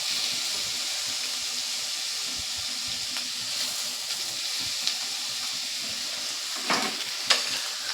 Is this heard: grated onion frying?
yes